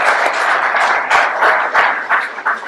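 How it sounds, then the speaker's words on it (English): Dense, loud applause from a crowd at a Peshmerga–USA partnership event, many hands clapping steadily throughout without talk. "we should actually give the Minister another round of applause"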